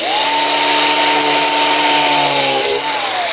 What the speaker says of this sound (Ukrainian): можна тільки болгаркою Дніпрем відкривати цю посилку